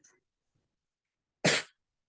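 A single loud sneeze bursts out during a programming tutorial on pointers and linked lists, short and sharp, following near silence.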